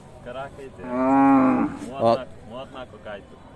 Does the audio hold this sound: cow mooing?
yes